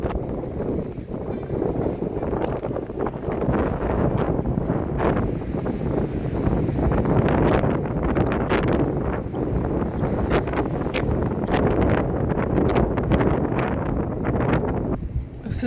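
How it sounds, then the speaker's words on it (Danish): Strong coastal wind at Høfde Q in Denmark buffets the microphone continuously, a loud rushing roar with gusty swells throughout. "Det blæser i dag"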